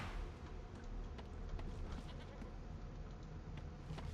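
Sheep bleating in the video game Divinity: Original Sin 2, a faint, quavering bleat rising over a low, steady background of game ambience.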